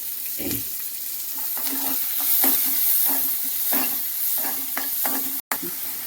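Onions, green chillies and curry leaves fry in a pan under a constant soft sizzle, with a spatula scraping and stirring in repeated strokes nearby.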